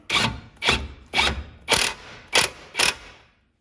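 A 17mm ratchet tightens a nut onto a suspension bolt on a Hyundai Sonata, giving six close, loud bursts of ratcheting clicks in an uneven rhythm before it stops.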